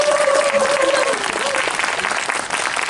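An audience at a Korean concert applauds for a performer, a dense steady round of clapping with a brief sung or sustained voiced tone fading out at the start.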